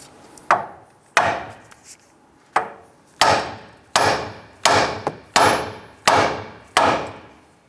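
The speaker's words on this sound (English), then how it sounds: "What I'm going to do next is I'm going to strike the top of the knuckle here" Steel hammer blows land on the top of a steering knuckle on a 2002-2008 Dodge Ram 1500 to break loose the ball joint, about ten sharp metallic strikes in a steady rhythm, close and loud, each ringing briefly.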